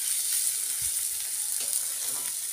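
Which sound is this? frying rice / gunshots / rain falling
frying rice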